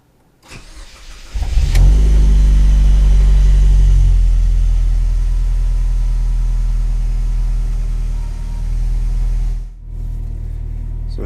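An Alfa Romeo Brera fitted with a new exhaust cranks briefly, fires up with a loud deep roar, then settles into a steady, rumbling idle close by.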